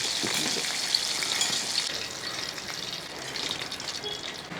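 Chicken sizzles and crackles steadily in hot oil, a dense hissing frying sound close up with occasional pops, no voices.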